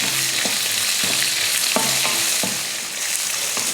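Chopped onion sautés in a pan with a close, loud frying hiss. A spoon scrapes the pan in regular stirring strokes, several in quick succession.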